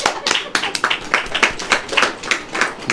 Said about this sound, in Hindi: ताली वाली बजेगी कि नहीं?